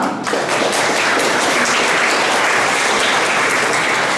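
Audience applause for a jury member at a painting biennale summary event in Olsztyn, dense sustained clapping from a crowd, loud and continuous.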